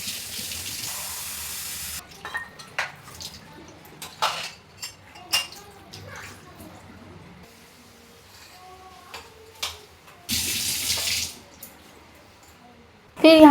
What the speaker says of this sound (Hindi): फिर यहाँ पर मैंने कर दिया था सिंक एरिया क्लीन, बर्तन जो भी थे उसको धुल कर हटा दी थी।